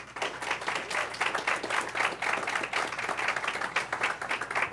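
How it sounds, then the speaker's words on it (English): Audience applause follows a dance performance at a Black History Month event, a steady patter of many hands clapping at moderate, somewhat distant volume, with no talking over it. "Please, another round of applause"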